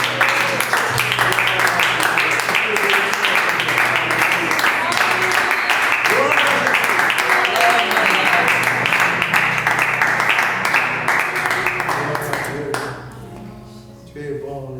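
A church congregation at a Sunday worship service applauds the Lord with sustained, dense clapping that runs steadily for many seconds before thinning out and fading near the end.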